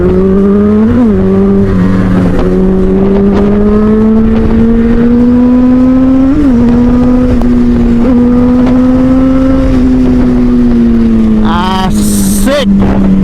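A large motorcycle engine drones loudly and close on a road ride, its steady low roar rising slightly with small revs, wind buffeting throughout and a brief higher whine near the end.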